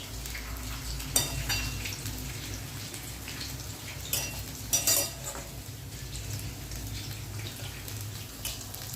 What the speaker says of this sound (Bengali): সর্ষের তেলে ভাজলে একটা কি সুন্দর গন্ধ ছাড়ে না?